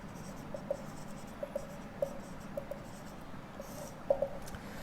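Chalk or marker writing on a board during a chemistry lecture, faint scratchy strokes and light taps scattered across a quiet room.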